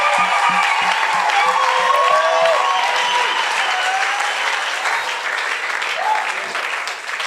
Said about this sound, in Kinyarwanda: amakofi y'urufaya